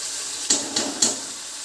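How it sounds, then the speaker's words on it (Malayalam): Fish masala sautés in a pan with a steady, close sizzle, broken by three quick scraping stirs in a row. "ഇതൊന്ന് നന്നായിട്ട് വഴലട്ടെ."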